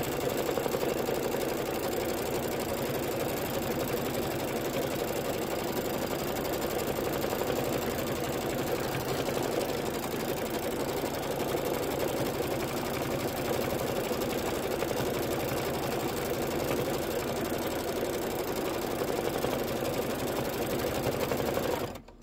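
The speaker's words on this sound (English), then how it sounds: "I'm going to do the quilting. Same color. This is the orange peel." An embroidery machine stitches an orange peel quilting pattern on a Kimberbell Spring Showers quilt block. Its needle keeps up a fast, even mechanical chatter, close and constant for the whole stretch, then stops abruptly at the end.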